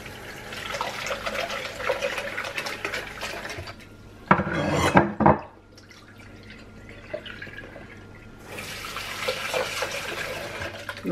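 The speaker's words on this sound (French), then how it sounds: "Donc je rince bien le réservoir." Water runs and splashes inside a plastic milk reservoir as it is rinsed, with a louder burst of flow midway and intermittent close handling and dripping around it.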